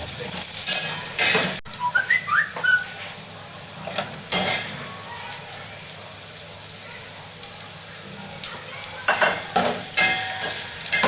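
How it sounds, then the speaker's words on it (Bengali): Whole spices (cloves, bay leaf, cinnamon and cardamom) fry with onions in hot oil for vegetable pulao, a steady soft sizzle with occasional stirring and utensil clinks close by. "গরম মশলা সবগুলা মানে লবঙ্গ, তেজপাতা, দারচিনি আর এলাচি দিয়ে দিচ্ছি।"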